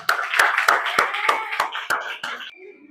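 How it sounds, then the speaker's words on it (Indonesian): Rhythmic group clapping in a classroom at the end of a lesson, about eight sharp, evenly spaced claps in unison, close and bright, stopping abruptly with a faint murmur after. "Tepuk tangan untuk kita semua"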